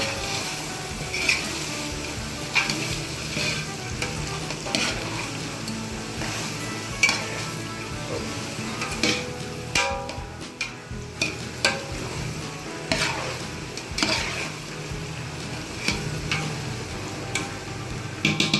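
Vegetables for Chinese fried rice sizzle and crackle in a hot pan as a spatula scrapes and stirs them now and then. There is no talking.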